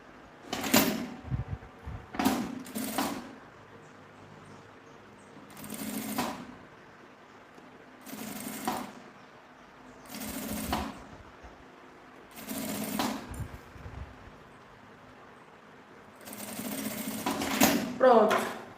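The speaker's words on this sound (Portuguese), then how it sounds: "Você junta aqui assim, no meio, para poder passar a costurinha aqui." A sewing machine stitches the pockets of a small cosmetic bag in several short bursts, close by. Quiet gaps separate the bursts, with handling noise and someone talking between them.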